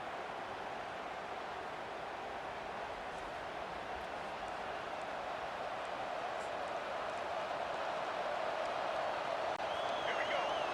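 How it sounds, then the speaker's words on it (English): Steady, distant roar of a large stadium crowd in EA Sports College Football 25, LSU vs Texas, a continuous wash of cheering noise that swells slightly toward the end. "This crowd bringing the energy and noise early."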